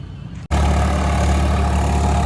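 A tractor 855 drives a Shaktiman rotavator, its engine cutting in abruptly after a brief lull and then running loud, steady and close with a deep, continuous drone.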